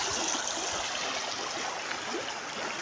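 A small river stream flows nearby in a steady, continuous wash of rushing, trickling water with no voices over it.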